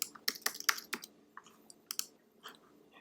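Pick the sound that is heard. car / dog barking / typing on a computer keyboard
typing on a computer keyboard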